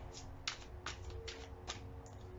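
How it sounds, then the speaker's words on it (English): Tarot cards shuffled by hand in several quick riffling bursts at a steady rhythm, close and fairly quiet over a low background hum. "Do a couple more shuffles."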